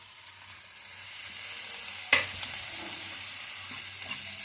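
Onion stir-fries with ginger-garlic paste and green chillies in a pan: a soft, continuous sizzle, with one sharp clatter of the spatula midway and lighter scraping strokes toward the end.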